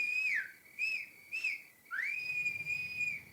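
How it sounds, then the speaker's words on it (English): A person whistles a few short notes and then a longer sliding one, clear and fairly quiet, alone. "whistling pitifully from the kitchen door"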